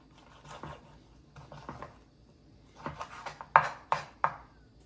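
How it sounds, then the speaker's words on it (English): A knife trims excess fat from oxtail on a cutting surface, a series of soft scraping cuts that build into several sharper, louder strokes near the end, with no talk. "So I want to trim the excess fat from the oxtail."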